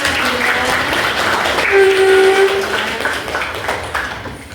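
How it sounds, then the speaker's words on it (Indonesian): Applause from a school classroom or supervision session crowd, a dense patter of clapping under a passing tonal whistle-like sound, steady then tapering off. "terima kasih, tepuk tangan untuk Mbak Afiska."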